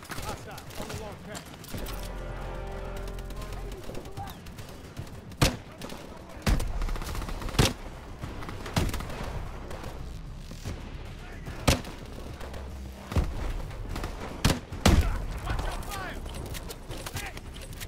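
Gunfire from Call of Duty: Advanced Warfare crackles in scattered sharp shots and short bursts over a low game rumble, with speech present throughout.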